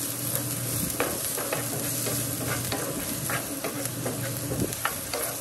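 Minced beef for spaghetti fries in a pan with a steady close sizzle, punctuated by frequent stirring clicks and scrapes of a utensil.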